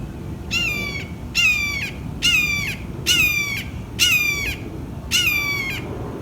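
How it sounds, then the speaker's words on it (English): Large birds perched on a chimney top calling in six evenly spaced, harsh squawking cries about a second apart, loud and close over faint low background rumble, no talking. "They're magnificent birds, I can say that."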